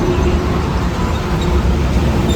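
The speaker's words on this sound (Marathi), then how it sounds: "ती बघा आता गाडी आली आहे" A bus pulls up at a roadside stop, giving a steady low engine rumble and broadband road noise close by.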